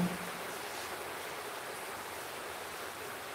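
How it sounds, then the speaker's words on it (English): Pouring rain outside during an evening storm with lightning and thunder, heard as a steady, even wash of hiss at moderate level, with no voices over it. "It's like pouring rain."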